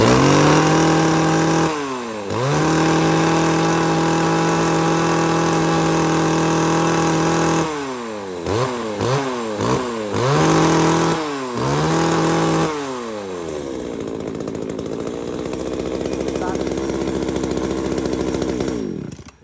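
A small two-stroke chainsaw engine runs loudly up close, idling then revving repeatedly in sharp bursts before settling into a steady drone.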